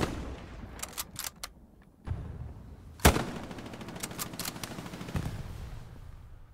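Gunfire in the World War II video game Hell Let Loose, with scattered rifle and machine-gun bursts, fairly distant, and one loud sharp crack midway, over a dull battlefield rumble with no talk.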